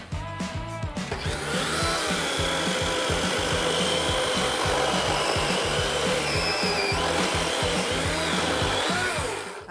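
A small chainsaw cuts steadily through wood outdoors during logging work. It runs as a loud, continuous buzzing whine close by for the whole stretch, with a slight shift in pitch as the cut goes on.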